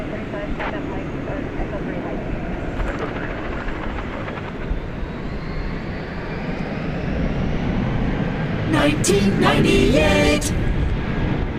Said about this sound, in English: And American Airlines A320 off to Des Moines, Iowa.